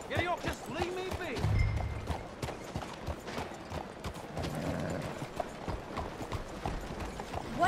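Horse hooves in Red Dead Redemption 2 clip-clop in a quick, uneven rhythm close by, with a whinny early on and a voice speaking over the trotting.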